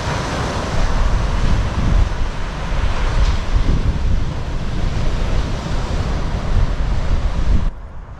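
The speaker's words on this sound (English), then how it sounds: "It's pretty windy." Strong wind blowing outdoors on a rainy winter coast, a loud continuous roaring gust buffeting the microphone with surging waves of noise before easing near the end, no voices.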